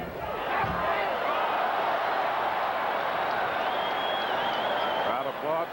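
Boxing arena crowd during a Sugar Ray Leonard vs Marcos Geraldo bout, a sustained roar of applause and cheering from a large audience with a commentator talking over it.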